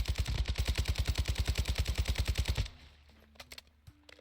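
Fennec 45 submachine gun fire in Call of Duty MW2, one long rapid burst of evenly spaced shots, loud and close, cutting off into quiet game ambience with a few soft clicks.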